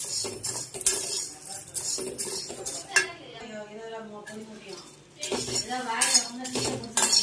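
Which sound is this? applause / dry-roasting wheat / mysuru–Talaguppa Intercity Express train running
dry-roasting wheat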